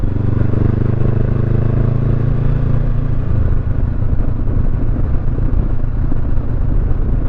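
A motorcycle rides along a narrow cemented road in Valencia near Dumaguete, its engine a steady, loud rumble with some road clatter, running close and continuous throughout with no talk.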